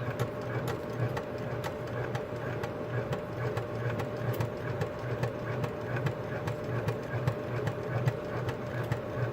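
A sewing machine stitches an accent piece onto a bag, running with a steady rapid mechanical chatter and hum, close and continuous with no talking.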